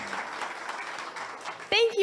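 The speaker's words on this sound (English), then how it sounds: "start with a round of applause" Audience applause at the ribbon cutting for a college maker center, a soft spread of clapping for about two seconds that ends as a voice starts speaking.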